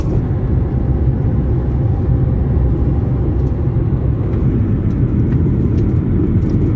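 A car driving along a road in France gives a steady, loud low rumble of engine and tyre noise inside the cabin, unbroken for the whole stretch, with no talking.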